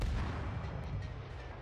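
Warship guns firing in World of Warships, a low, rumbling boom that rolls on as a sustained heavy roar, muffled and moderately loud.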